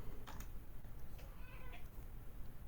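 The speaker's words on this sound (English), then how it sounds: "That is my cat." A house cat meowing for attention, faint and somewhat distant, with a couple of short mews over a quiet room-noise background.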